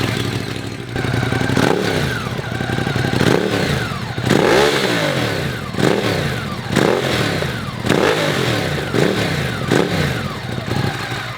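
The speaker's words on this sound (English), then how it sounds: "that's the acrobatic slip-on exhaust, which is cute in my Monster" Ducati Monster motorcycle fitted with an Akrapovic slip-on exhaust, engine revving in repeated rising and falling bursts at close range, with a rough, clattering idle between the blips and no talking.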